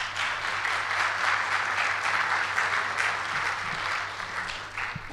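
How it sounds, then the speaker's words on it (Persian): Audience applause at a talk introducing the Blender 3D software, a steady dense wash of clapping from a crowd, sustained and even throughout with no talk over it. "تشویقشون"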